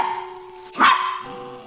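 A dog gives a single sharp bark indoors, loud and close, set against a quiet background with a steady electronic hum.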